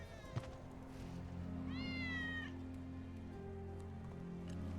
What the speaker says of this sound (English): Hear that? Fucking That's God. Wedge's cat.